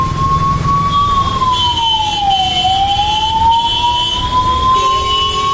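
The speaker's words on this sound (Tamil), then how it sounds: "நாட் எயிட்டு எமர்ஜென்சி பேசிக் லைஃப் சப்போர்ட்டு ஆம்புலன்ஸு தேங்கி போச்சு ஒன்றும் பண்ண முடியாது" A basic life support ambulance siren wails while stuck in heavy rainy-season traffic, a loud, close tone sliding slowly down and back up, over a low rumble of engines and road noise.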